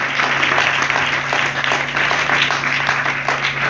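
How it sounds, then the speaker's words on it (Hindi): Loud, dense applause from a large church congregation, continuous and steady throughout, with faint voices mixed in. "एक बार जोर से तालियां"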